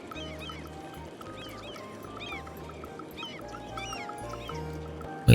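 Seagulls in the city-building game Cities: Skylines, circling over newly placed water: repeated high, arching bird calls scattered through the clip over a steady low ambient game hum, moderately faint, with no talking.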